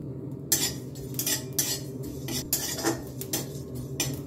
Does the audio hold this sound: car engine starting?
no